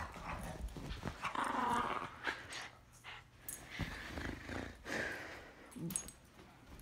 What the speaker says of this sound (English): Go look at this dog. He's going, he was going at me.